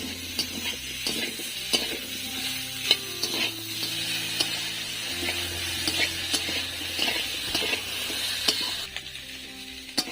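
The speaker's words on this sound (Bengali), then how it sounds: "এবার আমি আলুটা দিয়ে দেবো।" Potatoes sizzle in hot oil with cumin and onion for a Bengali fish curry, a constant frying hiss near the microphone punctuated by frequent clinks and scrapes as the pan is stirred.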